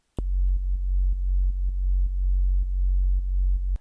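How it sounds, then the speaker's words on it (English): Sub bass synth from the intro of a track: a deep, steady low tone sustained throughout, pulsing rhythmically about every half second as if ducked by a kick, loud and alone. "The next thing in the intro is this sub bass sound"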